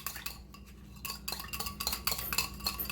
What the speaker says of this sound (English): I'm gonna whisk it all together